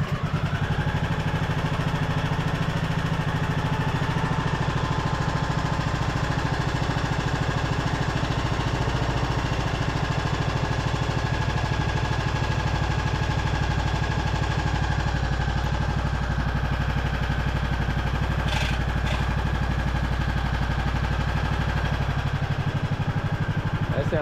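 A revived Poulan riding lawn mower engine running steadily, a loud continuous droning idle with a smooth, even rumble throughout.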